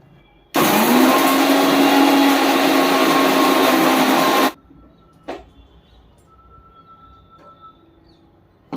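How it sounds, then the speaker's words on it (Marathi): A mixer grinder finely grinds spice masala for stuffed brinjal, a loud steady whirring roar that runs for about four seconds and then cuts off, followed by a few quiet clicks and knocks. "आता हे आपण आहे ना चांगलं बारीक वाटून घ्यायचं आहे।"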